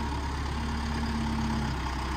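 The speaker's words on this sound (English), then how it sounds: "Got Britt operating the tractor." A tractor engine idles steadily beside a sawmill while a 100-year-old cypress log is handled, giving a constant low, even rumble with no change in pace.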